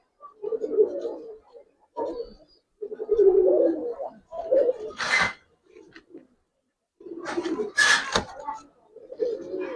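Giribaz pigeons coo in soft, low, throaty bursts with short pauses between them, close by and fairly quiet, with a couple of sharp scraping noises in between.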